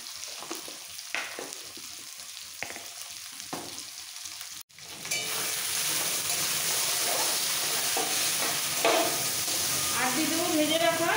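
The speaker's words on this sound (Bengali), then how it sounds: "এবার একসাথে কষাবো।" Jackfruit curry with dried and green chillies and a pinch of sugar being stir-fried, quiet scattered sizzles and stirring that jump to a loud, continuous hiss midway, close up and without speech.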